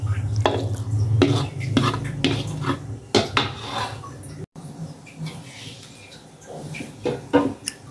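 Mie nyemek, a saucy fried boiled noodle dish, being poured from a pan onto a plate, with clattering utensil and pan scrapes and soft stirring noises in a close kitchen setting.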